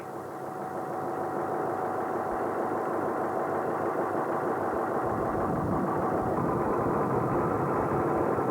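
A crab fishing boat's engine at Flamborough's North Landing idles and rumbles steadily and close, its low drone deepening slightly as the boat turns to reverse onto the beach; no voices.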